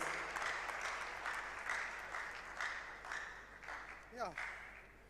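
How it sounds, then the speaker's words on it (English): An audience at a digital innovation week closing ceremony in Ghana applauds as a speaker is introduced, steady fairly faint clapping with a brief voice-like sweep near the end. "A round of applause as we have Mr. David Roberts"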